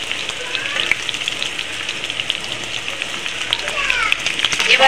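Sliced potatoes and long-cut yardlong beans fry in a hot pan, giving a loud, close, steady sizzle with dense crackling pops throughout.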